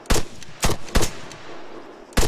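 Gunfire in a video game shootout with police: four sharp, loud shots spaced irregularly, with quieter game noise in the gaps between them.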